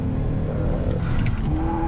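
A racing video game car starts a drift, its engine droning steadily with a rising tonal whine and a faint tire squeal throughout, no voices.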